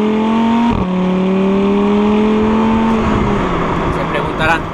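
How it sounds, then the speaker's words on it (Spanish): A 2017 Audi R8 V10 Plus roars as its ten cylinders accelerate hard, the loud engine note rising in pitch, briefly dropping at a gear change, then climbing steadily again close to the car. "escuchar el bramido al acelerar los 10 cilindros que tenemos a nuestra entera disposición."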